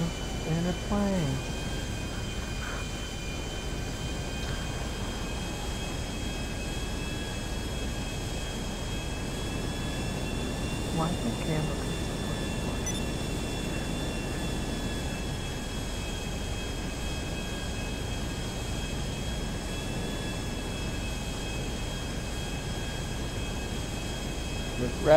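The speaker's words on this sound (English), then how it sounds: "Oh look, Trent's in a plane" A propeller aircraft engine drones steadily in the video game GTA 5, a continuous even hum held at one level throughout with faint background noise and no clear talk.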